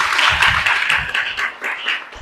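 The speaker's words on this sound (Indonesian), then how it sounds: "Kita kasih tepuk tangan." Audience clapping in applause at a routine Islamic study gathering, a brief burst of many hands with uneven patters, close and moderately loud, mixed with some faint voices.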